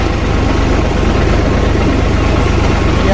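Tractor engine running steadily and loud while hauling a loaded wheat trolley on a rural harvest trip, a constant low rumbling drone with rhythmic pulsing and no pauses.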